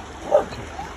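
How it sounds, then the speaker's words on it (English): A single short, high German Shepherd puppy bark over a faint background hum. "I think she's barking because you're stuck"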